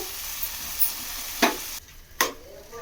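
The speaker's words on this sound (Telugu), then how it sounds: "ఇది కూడా కొంచెం బాగా మగ్గనిచ్చాలి ఆయిల్లోనే బాగా మగ్గనిచ్చాలి ఈ టమాటా ముక్కలు" Tomato pieces frying in oil for a ginger (alam) chutney give a steady close sizzle, with a few sharp stirring clicks scraping the pan and no talking.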